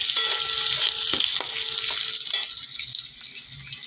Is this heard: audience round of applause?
no